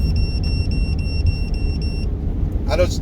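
A truck's engine rumbles low and steady inside the cab while driving, with a repeating electronic chime beeping over it before a voice briefly speaks near the end.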